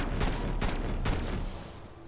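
Gunfire in the video game Black Ops Cold War Zombies, three heavy bursts of shots in quick succession, fairly loud, then fading into a quieter tail.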